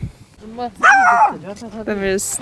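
A dog hidden in a bush on Comino, Malta, barks sharply a few times amid people talking, the barks loud and close, with a yip toward the end.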